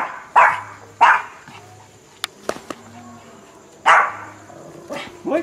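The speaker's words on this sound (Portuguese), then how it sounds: "Cachorrinho pequenininho, acho que quer defender a casa," A small dog barks in sharp bursts, a pair of yaps followed by a pause and another bark, close by, with a few faint clicks between.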